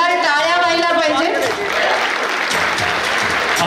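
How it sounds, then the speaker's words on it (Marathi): Audience applause at a student felicitation ceremony at an academy: a sustained burst of clapping from a crowd, loud and continuous, with a voice speaking over the start. "सो पुन्हा एकदा जोरदार टाळ्या व्हायला पाहिजे."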